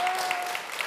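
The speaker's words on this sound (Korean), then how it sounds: "박수 한 번만 부탁드리겠습니다" Studio audience applause after a Korean tongue-twister attempt, a brief steady patter of clapping at moderate level with no pauses.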